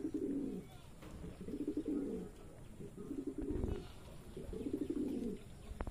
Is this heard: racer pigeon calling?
yes